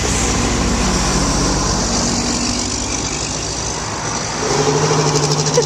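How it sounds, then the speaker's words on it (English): Trucks rumble through an industrial area, a steady low engine drone with traffic noise that swells slightly near the end, continuous and moderately loud with no voices. "When all the trucks travel in and out of the industrial area"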